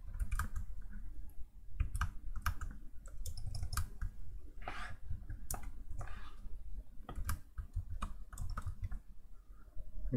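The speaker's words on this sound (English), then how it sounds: "if I can type it." Computer keyboard typed on in bursts of close, crisp key clicks over a low steady background hum, uneven in rhythm, with no one speaking.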